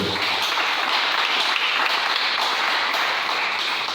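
A church congregation applauds to acclaim the Lord with steady, dense clapping that holds at an even level from start to finish, with no voices over it.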